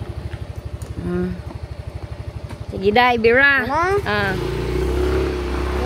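A motorcycle engine putters with a fast, even low thump at close range while people talk over it, then the engine noise rises and roughens as the ride continues.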